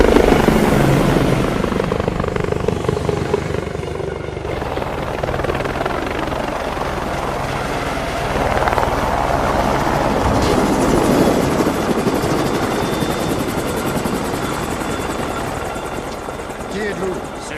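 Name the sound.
helicopter flying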